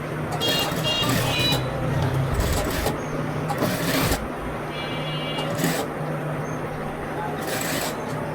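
Sewing machine top-stitching a small girl's frock, a steady mechanical whir running through the whole stretch with a few brief pauses, close and fairly loud under a voice.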